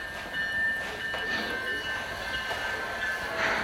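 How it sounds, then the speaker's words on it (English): A Micro Express Big Boy model steam locomotive pulls away with a soft rolling rumble and a thin, steady high whistle-like tone throughout. "The microexpress steam locomotive now leaves to depart."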